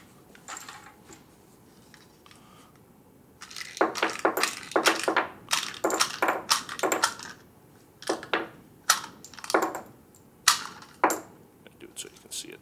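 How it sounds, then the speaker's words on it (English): Pistol rounds sliding out of an UpLULA universal speedloader, a series of sharp metallic clicks and clinks coming in quick irregular bursts up close, with faint talk early on. "we're just going to slide this back and forth, and the rounds come out just like that"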